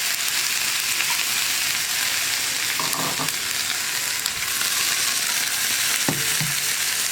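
Onion chutney gravy with ground paste and added water sizzling steadily in a pan, with a couple of brief scraping stirs partway through and no talking.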